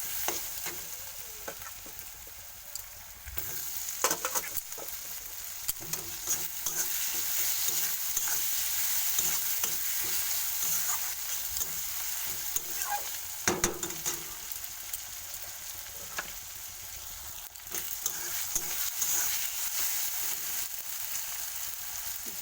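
Tomato frying in hot oil with ginger and turmeric for a rohu fish curry, a steady sizzle running throughout with scattered stirring scrapes and occasional louder spatters, close and alone with no talk.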